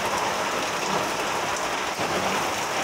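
Steady rain pours down outside a home, a dense, continuous hiss of drops hitting surfaces that stays even and close throughout, with no voices.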